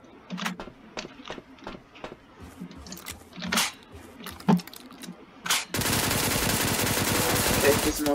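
Rapid gunfire from a PUBG-style battle royale shooter game, first in scattered bursts and single cracks, then a dense continuous stream of shots near the end, with a voice speaking briefly between the early volleys.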